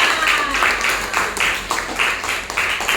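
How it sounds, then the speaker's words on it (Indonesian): Students in a sixth-grade classroom clap together in a steady, rhythmic unison beat, fairly loud and close, with no talking over it. "kasih tepuk tangan buat kita semua."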